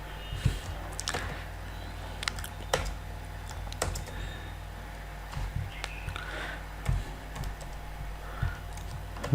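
Computer keyboard keys clatter in irregular bursts as code is typed, close and distinct, with quiet pauses between runs of keystrokes.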